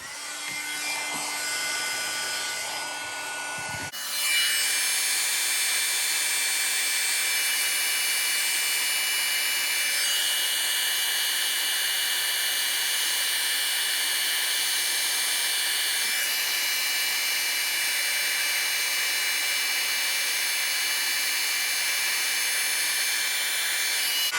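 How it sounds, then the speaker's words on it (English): Embossing heat tool switched on and blowing hot air, a sudden start into a steady high-pitched whirring hiss that holds continuously and close, with no talking. "I'm going to heat up the embossing tool."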